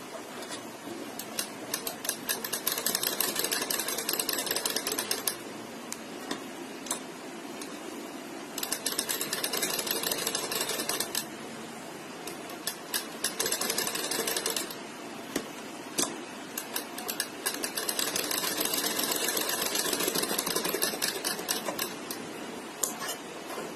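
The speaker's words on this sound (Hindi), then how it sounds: "इस सिलाई के ऊपर हम दोबारा सिलाई लगाएंगे" A sewing machine stitches over a seam on a sleeve, running in long, fast, rattling bursts with brief pauses between them, close and steady with no talk.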